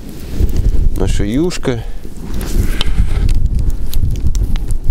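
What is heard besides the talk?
strong wind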